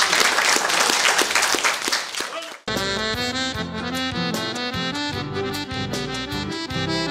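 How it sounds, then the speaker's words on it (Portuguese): A crowd claps loudly at a gaucho accordion festival in Medianeira, a brisk dense burst lasting a couple of seconds before it cuts abruptly to music with a steady beat and sustained tones. "Agora, salve de palmas"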